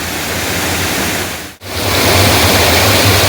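Oliyathumpara waterfall at Mezhathur roars as clear, cold water foams and tumbles over rock, a loud, dense, unbroken rush that drops out for an instant before returning.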